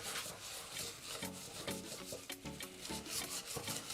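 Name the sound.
scrubbing with steel wool while cleaning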